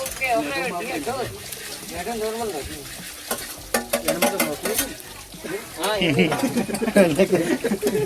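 Chopped onion dropped into hot oil to temper dal in a Gujarati kitchen, a steady sizzle and frying hiss with stirring, heard under continuous talk from people nearby.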